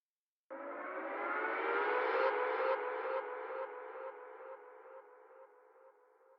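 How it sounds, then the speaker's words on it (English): An air raid siren in a UK garage breakbeat production swells in and holds a wailing, echoing tone. A low-pass filter gradually opens it while the level slowly fades over several seconds, with no other sounds. "the air raid siren has a low pass filter which sweeps up via automation"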